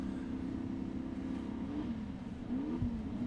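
Class 11 Baja Bug race cars idle and rev together at the start line, a steady throaty engine drone with rising and falling revs, loud and continuous with no talk.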